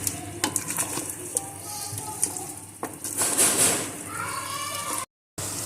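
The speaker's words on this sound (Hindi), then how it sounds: "थोड़ी सी आंच को तेज कर लेंगे हम और इसे अच्छी तरीके से भून लेंगे" An onion-based masala for an aloo matar curry is stir-fried in a pan over raised heat. It gives a steady, close sizzle broken by scraping and stirring noises, with a voice talking over it.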